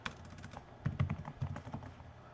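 Code being typed on a computer keyboard in quick, close key taps over a couple of seconds, with a brief denser run of keystrokes partway through.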